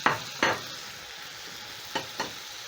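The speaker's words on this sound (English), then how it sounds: "Then I'm going to add my fish in my pan." Fish added to a pan of tomato stew, giving a low steady sizzle with four short scraping bumps from the pieces and utensil hitting the pan; close and fairly quiet with no talk.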